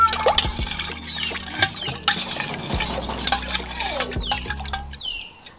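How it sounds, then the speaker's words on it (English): Water is poured into a cooking pot of peanuts in a Ghanaian kitchen, with splashing and trickling mixed with clinks of a utensil against the pot, close and fairly loud. "So I'll add more water again."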